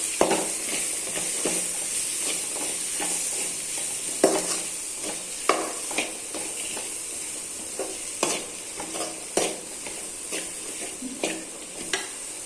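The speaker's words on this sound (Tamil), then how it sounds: "போட்டுட்டு லைட்டாக வதக்கி விடலாம்." Beetroot and ground roasted masala sauté in a pan, with a steady sizzle under repeated scraping strokes of a spoon or spatula, loud and close with no talking.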